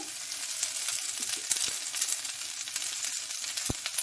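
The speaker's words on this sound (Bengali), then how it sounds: "ঢ্যাঁড়সও ভাজা হয়ে যাবে, পেঁয়াজও ভাজা হয়ে যাবে" Sliced onions and okra fry together in a pan with a constant bright hiss and a few faint clicks from stirring, heard up close with no talking.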